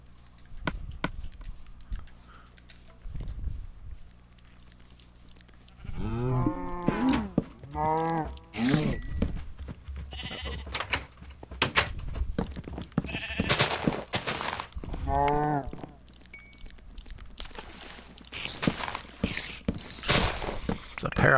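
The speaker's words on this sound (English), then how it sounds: "There's a pair of black sheep over here." Sheep in the Minecraft video game bleat in several wavering, drawn-out calls spread across the scene, alternating with clicks and game effects while players chat casually over the top.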